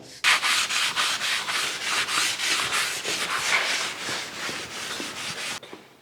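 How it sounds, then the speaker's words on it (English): A cloth wipes Windex over metal to clear old bluing from a surface grinder part, making quick, regular back-and-forth rubbing strokes, close and steady, with no talk. "I'm just going to take a little Windex here. We're going to get all that old bluing off."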